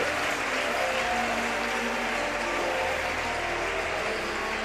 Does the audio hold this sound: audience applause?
yes